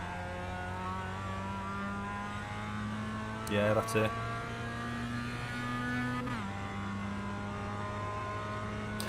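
A Mazda MX-5 engine in a racing video game hums steadily under continuous male conversation, with a brief rev burst midway and then a gear shift as the tone drops and climbs again.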